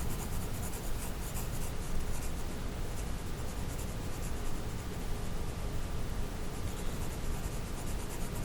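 A pencil cross shading on paper for a skull still life drawing, steady scratchy strokes in a continuous back-and-forth rhythm, close and alone with no talk.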